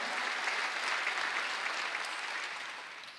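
A congregation claps during a Sunday church service, a dense, even wash of hand claps that holds steady, then tapers off slightly at the close.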